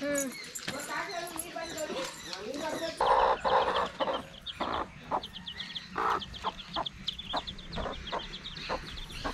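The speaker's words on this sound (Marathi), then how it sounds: "कोंबडी" Hen clucking near a village river, with repeated short bursts of clucks over a steady outdoor background while people talk nearby.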